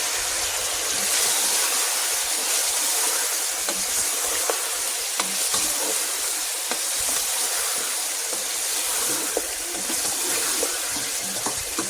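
Chicken frying in a karahi with salt, red chili, turmeric, dried coriander, cumin and four green chilies added, a steady broadband sizzle with scattered clicks of a spoon stirring, continuous and fairly loud throughout, no voices.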